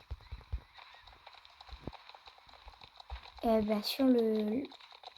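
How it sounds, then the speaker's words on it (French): Fast, uneven hoofbeats of a galloping horse thump close by, recorded from a camera attached to the horse, and a brief voice-like cry rises near the end. "on dirait qu'il trotte sur la caméra, mais il était vraiment en plein galop"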